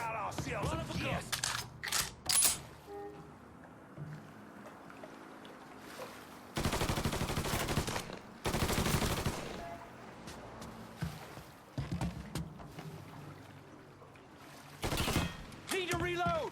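Gunfire in the video game Mafia 3, with several loud bursts of rapid automatic shots separated by quieter stretches, alongside in-game voices and other game sounds.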